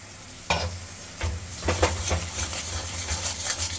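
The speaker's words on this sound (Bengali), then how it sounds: "এইটাকে খুব ভালো করে আপনাদের কুক করে নিতে হবে যতক্ষণ না এর তেলটা সেপারেট হয়ে যাচ্ছে" Crab masala with crab brain frying in a pan, a soft steady sizzle with a few distinct clanks and scrapes of the spoon against the pan, close by and without speech.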